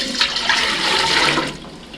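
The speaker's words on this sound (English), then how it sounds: "And then I'm going to dump this back into the dye pot." Hibiscus dye liquid gushes as it is poured back into a dye pot, a loud, close, continuous splashing rush lasting about two seconds before tapering off; no talk.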